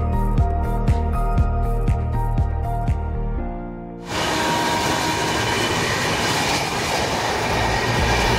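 The Sealdah–Puri Duronto Express runs over the rails, with rhythmic clickety-clack wheel beats for a few seconds, then a sudden switch to a loud, steady rushing roar of the moving train.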